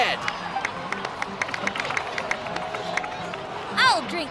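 A crowd in the video game Genshin Impact applauds and cheers, with a busy patter of clapping and excited voices under speech, capped by a brief bright flourish near the end.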